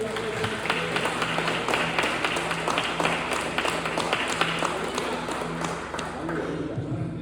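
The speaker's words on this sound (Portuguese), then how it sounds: "Quem crê já dá uma salva de palmas aí no Senhor" A church congregation applauds during a worship service, sustained rapid clapping from many hands over a steady background hum, with a voice speaking over it.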